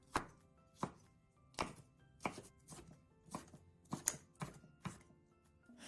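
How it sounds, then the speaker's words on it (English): Knife chopping cabbage finely on a cutting board, about eight crisp, evenly spaced strokes with a slow, regular rhythm, close and clear with no talking. "I've cut the cabbage into about 7 or 8 millimeters"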